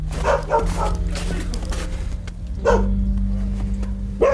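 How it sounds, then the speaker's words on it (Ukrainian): A dog barks repeatedly nearby in a rural border village, several loud barks in irregular bursts over a steady low engine hum, likely an idling ambulance. "ховає пса"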